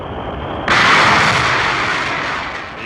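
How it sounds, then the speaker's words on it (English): An escape rocket firing to pull a Mercury capsule away from its Atlas booster, a sudden loud roaring blast that swells in and holds as a broad rushing thunder. "The escape rocket takes the capsule away from the booster."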